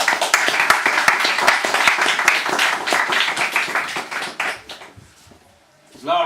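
An audience applauds a poet after her reading, with dense, steady clapping that fades out toward the end before a voice starts speaking.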